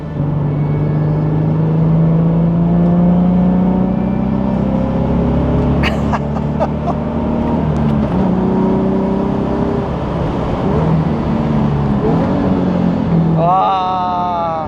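High-revving car engine that spins to 7,500 rpm, accelerating loudly through its mid-range with rising harmonic sweeps and gear changes, steady and close throughout.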